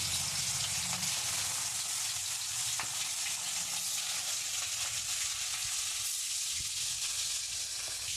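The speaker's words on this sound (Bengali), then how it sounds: "এবার আমি সব মাছ ভেজে নেবো।" Salt-and-turmeric-coated silver carp pieces fry in hot oil, a continuous close sizzle and hiss with occasional pops and crackles, no talking.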